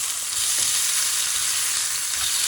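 Chicken breast sizzles steadily in a hot pan, a dense continuous frying hiss heard close with no speech.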